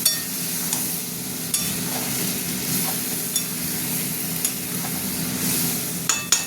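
Spices with salt being stir-fried in a pan for a spicy prawn and yam dish, a continuous sizzle with repeated scraping strokes of a spatula, close and clear.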